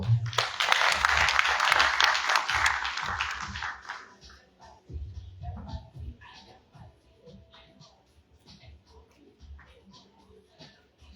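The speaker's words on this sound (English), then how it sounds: "Please give a round of applause for her." Audience applause fills the first four seconds at a sophomore orientation program, a dense burst of many clapping hands that fades out and gives way to quiet talk and room noise.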